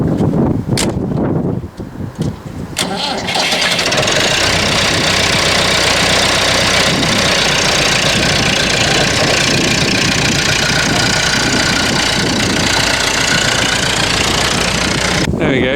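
A Massey Ferguson 265 tractor's engine, loud and close, turns over and runs at a steady idle with a dense, continuous mechanical rumble after a few seconds of irregular bursts at the start.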